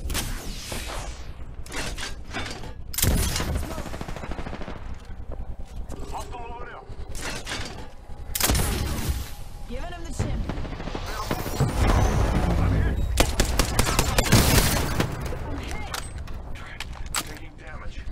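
Video game firefight with repeated gunshots and booming bursts, loud and intermittent over eighteen seconds, with a person talking between the volleys.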